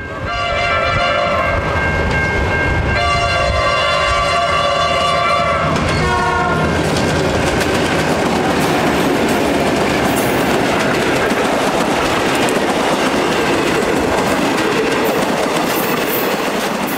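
Victorian Railways T342 steam locomotive on the Goulburn Valley line, opening with a loud sustained whistle blast in two parts before giving way to a heavy, close rolling roar and wheel clatter as the train passes.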